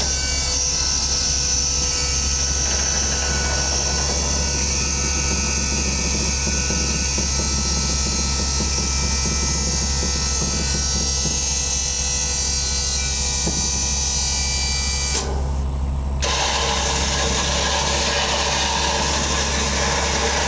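The boom of a spray rig folds in on its hydraulic cylinders over a loud, steady engine drone. A strained hydraulic whine runs underneath, then breaks off briefly near the end before the drone carries on.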